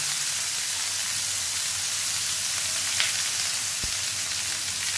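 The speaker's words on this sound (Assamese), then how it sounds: "তেল গৰম হৈ গ'ল। দি দিওঁ পিঁয়াজ, কেপচিকাম, বিলাহী," Onion, capsicum and tomato frying in hot oil for a vegan chili chicken, giving a steady, even sizzle throughout with one faint tap near the end.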